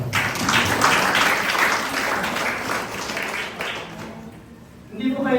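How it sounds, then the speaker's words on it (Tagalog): A church congregation claps together in a sustained wave of applause during a Tagalog worship service, fading toward the end before a brief return of sound. "Salamat sa palakpak sa Panginoon."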